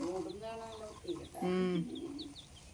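A chicken clucks and squawks up close, with a few short chirps and one louder drawn-out cluck in the middle.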